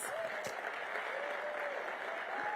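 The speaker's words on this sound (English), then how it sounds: "Let's give Anita and Reverend Hagler a big round of applause." A crowd at a mayoral homeownership announcement gives sustained applause for Anita and Reverend Hagler, an even mass of clapping with a faint voice or two underneath.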